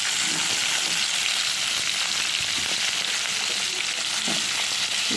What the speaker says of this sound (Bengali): এরপর আমি কেটে রাখা আলু আর ওলকপিগুলো আমি দিয়ে দিচ্ছি